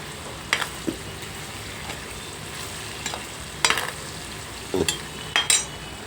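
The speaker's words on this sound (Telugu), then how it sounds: "ఇలా వేయించుకుంటే సరిపోద్ది ఎక్కువగా వేయించుకుంటే లబ్బర్ ముక్కల్లాగా అయిపోతాయండి" Paneer pieces fry in a pan for a restaurant-style paneer cashew curry. A steady soft sizzle runs throughout, broken by a few sharp scraping stirs of a spatula.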